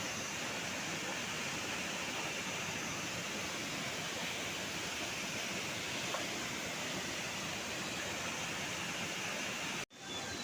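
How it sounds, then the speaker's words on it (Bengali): Devis Falls in Pokhara, Nepal, a small waterfall with a forceful flow, gives a steady, even roar of falling water with no talk, cutting out briefly just before the end. "সুন্দর একটি ফলস, যদিও ছোট, বেশি বড় না, তারপরেও খুব জোরে পানি পড়ছে"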